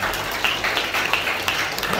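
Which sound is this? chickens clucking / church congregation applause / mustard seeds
church congregation applause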